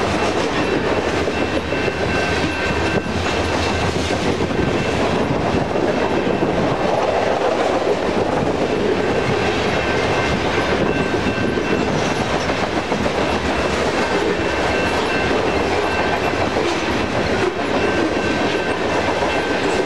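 A heavy Union Pacific freight train with a mid-train remote locomotive rumbles past steadily and loudly, with continuous wheel clatter and a metallic ringing hum throughout.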